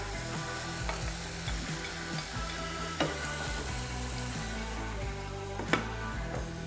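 Meat sizzling in a pan after wine and lemon juice go in, a loud continuous hiss and crackle with a few sharp utensil clacks near the start, middle and end.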